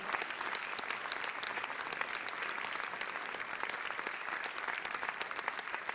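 Sustained, dense applause from an audience at a stage event as a chairman walks up to the podium, steady and loud throughout with no gaps.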